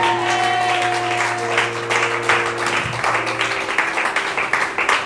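A church congregation applauding in praise, sustained clapping from many people in a large room, loud and continuous, with a held organ or keyboard chord sounding underneath.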